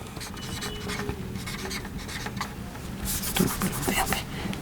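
A pen scratching out a geometry proof on paper about triangles, with steady close scribbling strokes that grow busier toward the end, and no clear speech over it.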